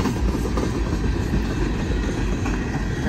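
An empty BNSF coal train rolls past close by, a loud continuous low rumble of railcars with faint wheel clatter.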